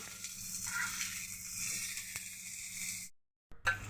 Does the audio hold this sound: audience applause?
no